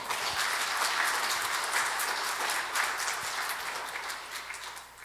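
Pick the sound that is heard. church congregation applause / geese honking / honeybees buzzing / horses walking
church congregation applause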